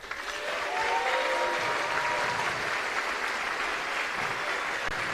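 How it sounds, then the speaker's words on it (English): An award ceremony audience at a Formula SAE competition gives a big, sustained round of applause for the event volunteers, a dense, even wash of clapping with a faint tonal line underneath and no talk. "I would appreciate if you would show the other volunteers who make FSAE possible a big round of applause."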